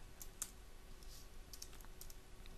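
Computer keyboard keys tapped while working in the Delphi IDE: a few quiet, scattered clicks in an irregular rhythm over a low steady room hiss, close but faint.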